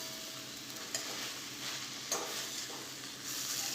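Cut bread pieces get mixed into a frying mixture in a pan, giving a soft continuous sizzle with a few light stirring knocks and scrapes, close by. No one speaks.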